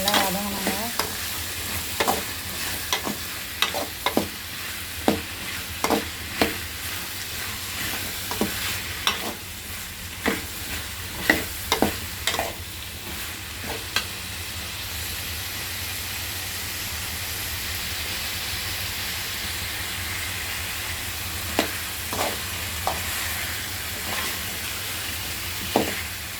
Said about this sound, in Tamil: முள்ளங்கி நல்லா வதங்கணுங்க.